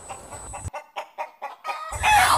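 Chickens in a coop cluck in short, separate bursts close by, with a brief crowing-like call and rustling noise at the start and end.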